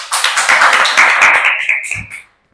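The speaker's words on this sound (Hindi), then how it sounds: "ताली बजाएं सब लोग।" An audience at a NEET results interview event claps in a dense, even burst of applause that swells, holds for about two seconds, then tapers off and stops.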